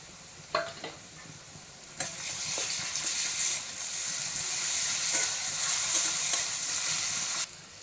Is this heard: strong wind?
no